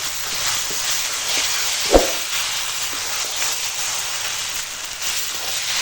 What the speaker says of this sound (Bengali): দেখো মাংসটা কষাচ্ছি।